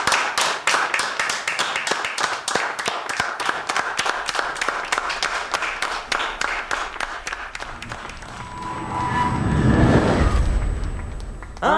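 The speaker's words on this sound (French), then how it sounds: "Applaudissez le capitaine." A group claps in unison for the captain in a horror-film scene, a fast, regular, loud beat of hand claps that stops near the end as a deep rumbling boom swells up.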